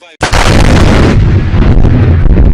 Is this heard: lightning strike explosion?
yes